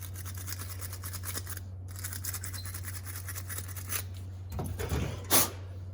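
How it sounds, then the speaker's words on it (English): Rag or cloth wiping sealer residue off an LS ignition coil, a soft steady rubbing and brushing that runs close and continuous over a low hum, with a few slightly louder scrubbing strokes near the end. "Just wiping off where this sealer is right here."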